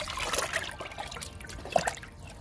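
Water poured into a bucket to dilute kitchen waste liquid for plants, a soft close trickle and splash with a few brighter drips.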